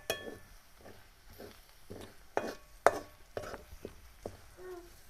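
A spice tempering (phodni) for Marathi dal amti stirred in a pan, with a series of scraping, clinking strokes at an irregular pace over a faint background sizzle, close and moderately loud, no voices.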